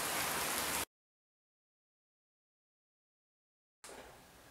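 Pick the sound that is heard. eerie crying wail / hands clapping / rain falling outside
rain falling outside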